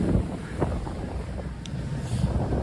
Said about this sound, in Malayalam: നല്ല കാറ്റും, മുഖത്തേക്ക് നല്ല രീതിയിൽ വെള്ളം അടിക്കുന്നുണ്ട്